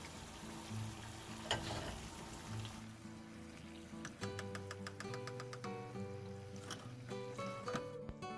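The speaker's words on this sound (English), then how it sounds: "Let it fry for about 25 minutes until you get this darkish brown color" Banana and cassava fritters fry in hot oil with a soft, steady sizzle and crackle, later joined by light clinking and tapping of a utensil, quiet and close with no speech.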